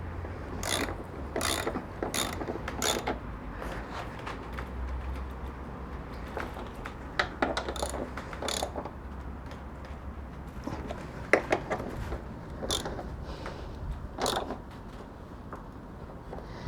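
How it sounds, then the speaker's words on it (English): A ratchet tightens the front strut nut on a Mitsubishi 3000GT, giving repeated quick clicking bursts at close range over a low steady background, with pauses between runs of clicks. "So you need to try and hold it the best you can while you're doing up the nut."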